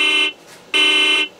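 A toy horn from the add-on sound system of a LESU AOUE 9150 Liebherr RC hydraulic forwarder blares in two loud, steady electronic blasts separated by a short gap, nearby and alone.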